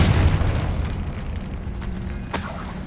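A Confringo spell in the video game Hogwarts Legacy detonates with a deep, booming blast that rumbles and fades over a couple of seconds, followed by a sharp burst of crackle near the end.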